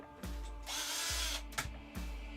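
A power drill whirs in short bursts, motor spinning up and winding down several times in close succession, loud and near with mechanical clicks between runs.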